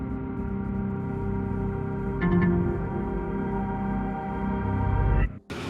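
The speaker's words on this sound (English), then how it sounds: "so we're riding along the trains at hand" A train rolls along the tracks in Transport Fever 2, a steady, droning rumble with sustained humming tones and a brief bright burst partway through, before cutting off abruptly near the end.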